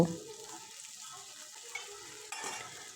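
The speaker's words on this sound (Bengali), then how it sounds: "খুব ভালোভাবে মশলাটা কষে নেব" Spice paste for a Bengali fish curry being stirred in hot oil, a steady sizzle with scraping strokes of a spoon against the pan and a couple of sharper clinks, close and continuous.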